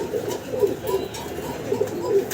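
A blue spangle pigeon pair coos close by in soft repeated throaty bursts, steady and moderately loud with no talk.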